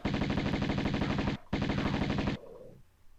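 Rapid automatic gunfire from Tomb Raider on the PS1 rattles loudly at lions in two long bursts split by a brief pause, then cuts off and leaves a fading echo.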